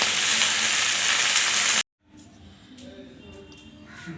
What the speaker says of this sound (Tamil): இதே எண்ணெயில் கருவேப்பிலையோ புதினாவையும் போட்டு வதக்கி எடுத்துக்கலாம்